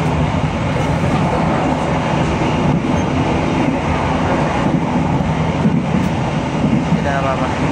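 An economy-class passenger train, the Banyubiru service between Solo and Semarang, rolls along the rails with a loud, steady rumble heard from inside the carriage, continuous and unbroken throughout.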